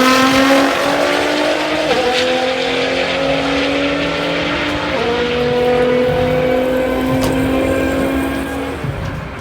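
A car drifting at speed near a race event, tires squealing in long sustained screeches over a loud revving engine, with pitch shifts as the car slides and recovers.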